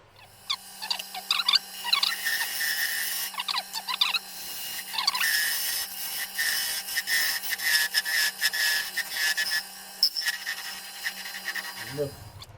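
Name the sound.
parting chisel cutting wood on a lathe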